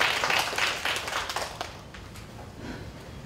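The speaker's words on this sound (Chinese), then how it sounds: "那我们就一起鼓掌欢迎我们的学校社工师督导苏盈玲苏老师" An audience at an education seminar claps to welcome a speaker; scattered, fairly quiet hand claps fade away over the first couple of seconds, leaving a low room hush.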